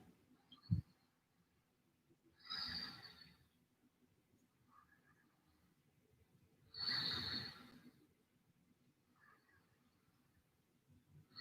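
Slow, audible breaths held in a shoulder-focused yoga pose: two long, airy exhalations a few seconds apart, softer inhales between, close and quiet with no talking.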